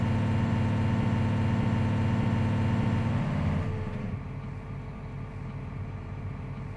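Diesel engine of a 2020 John Deere R4060 sprayer running steadily with a loud, deep rumble, then dropping to a noticeably quieter, smoother hum partway through as the setting changes, with no talking.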